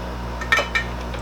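A small screwdriver pries a metal paint-can style lid off a tin of brine shrimp eggs, giving two sharp metallic clicks close by, with faint scraping around them.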